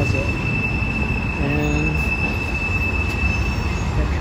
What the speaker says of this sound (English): that train sounds like it's coming from both directions right now